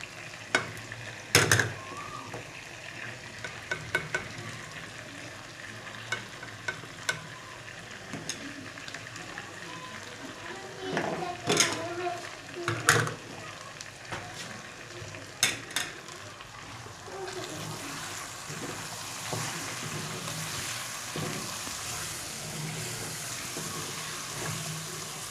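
Mutton sizzles in a karahi with onion, ginger, garlic and spices, a steady frying hiss broken by scraping, clattering stirs of a spoon against the pan, with a few faint voices nearby.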